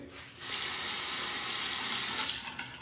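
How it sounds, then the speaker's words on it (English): Hot water runs from a bathroom tap to warm a stainless steel safety razor, a steady close splashing rush that swells quickly and keeps going for a few seconds, then eases near the end, with no voices. "Warm it up under the hot water."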